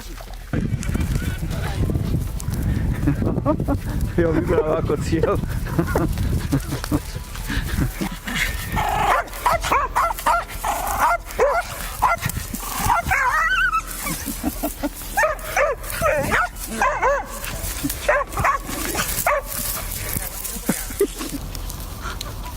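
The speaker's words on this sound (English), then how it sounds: "This dog seemed to be having the time of its life barking at the wild boars" A dog barks excitedly and repeatedly at wild boars amid chaotic outdoor commotion, with grunting boars and whimpers mixed in, and some voices in the background.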